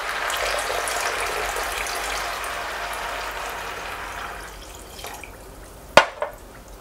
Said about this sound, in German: Und 700 Gramm Wasser.